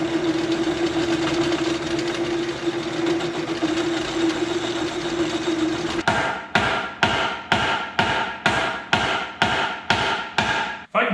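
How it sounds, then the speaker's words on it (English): Lathe turning down a worn, used skid steer bushing: a steady loud machine whine and rumble for about six seconds, then a run of regular sharp rhythmic knocks, with no talking. "Let's turn this down until it fits the arm."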